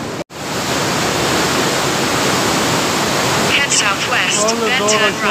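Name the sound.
water rushing forcefully through river headworks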